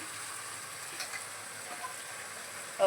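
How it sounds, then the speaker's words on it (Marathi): Ground spice paste with cumin powder and turmeric sizzles in hot oil in an iron wok, a steady soft frying hiss with faint crackles, fairly quiet and without voices. "आता तेलामध्ये सगळं ते वाटलेलं मसाला घालते"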